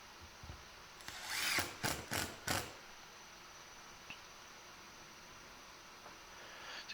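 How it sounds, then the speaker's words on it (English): Short bursts from a power drill driving screws into pilot holes to mount hand saw storage in a workshop, three or four quick whirs in a row followed by a quiet stretch with faint clicks. "Again, just a little pilot hole, and then screwing it down."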